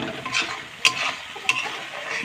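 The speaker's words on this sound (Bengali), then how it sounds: "এবার এই মশলাটা আমি ভালো করে ভেজে নেব" A ground spice paste of ginger, chilli, cumin and coriander, with salt and turmeric, fries in a pan with a bubbling hiss broken by two sharp clicks from stirring.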